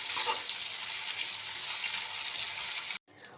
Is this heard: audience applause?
no